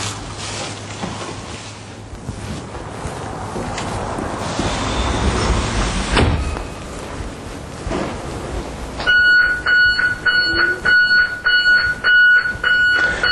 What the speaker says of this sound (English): And again, the alarm has been set off.